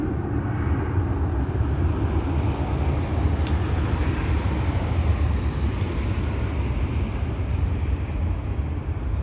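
A commercial airliner passes overhead, producing a steady, loud broadband engine rumble that holds evenly for about nine seconds with no other sounds.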